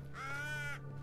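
A single drawn-out raptor cry, an eagle call in the video game Assassin's Creed Valhalla, rings clearly for just under a second over a steady low game hum.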